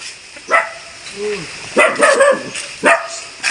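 Several sharp barks at close range from a guard dog, spaced irregularly, with a brief whine between them.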